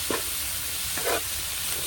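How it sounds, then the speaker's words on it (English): Curried chicken sautés in a pan over a campfire, a steady close sizzle and hiss with a couple of faint stirring scrapes, no talking. "Just have this saute off for a bit."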